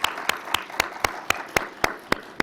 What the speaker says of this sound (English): how about a quick round of applause for all of the amazing presenters and all the information.